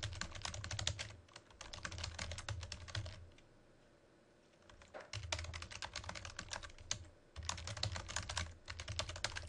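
Fast typing on a computer keyboard, close rapid key clatter in bursts with a short pause in the middle, no talk.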